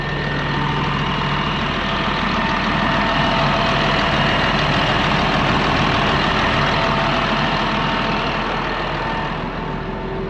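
A Caterpillar D6R high-track bulldozer, ex-US Army and recently revived after sitting abandoned, idles steadily with a deep, throbbing diesel rumble close by, its pulsing beat even and unbroken from start to finish.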